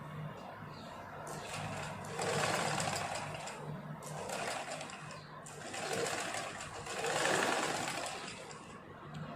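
A sewing machine stitches the hem of a petticoat, running in long steady bursts with a few brief pauses, close and fairly quiet.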